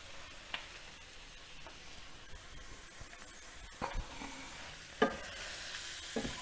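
Pork is stirred with paprika in a hot pan, the meat hissing softly while a spoon scrapes the base. The scrapes come in a few louder bursts toward the end, all fairly quiet and close.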